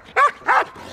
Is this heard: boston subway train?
no